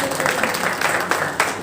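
Brief audience clapping welcoming a speaker at a senior citizens' awareness day event, a steady patter of hands, moderately loud and close.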